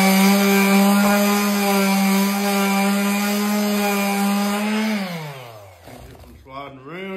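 Wood resting on bench cookies is sanded with a powered sander. A loud, close, steady motor whine runs throughout, then winds down and sputters near the end.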